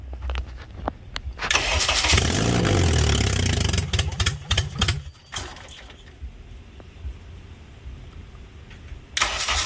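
A K24A engine in a Honda Integra cranks and catches with a loud roar, revs for a couple of seconds, then drops to a lower rough idle with clanks before surging again at the end.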